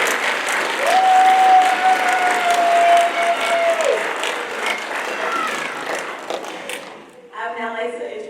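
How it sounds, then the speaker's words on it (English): An audience at a school awards night claps in a sustained round of applause for student competitors. The clapping stays loud and steady, with a brief whistle-like tone over it, then fades and breaks off into a voice near the end. "Please give our HOSA members and competitors a round of applause."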